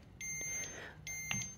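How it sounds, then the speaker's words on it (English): A Gann BL B2 moisture meter gives short electronic beeps while taking a reading, two clear tones close by, with faint handling sounds between them. "when I take a reading, you'll hear that little beeping sound"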